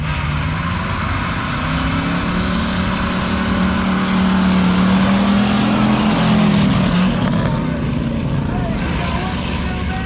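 Roadster race car at a drag strip during RPM Nationals, a loud sustained engine roar rising in pitch as it launches, with crowd noise and an announcer talking over it throughout.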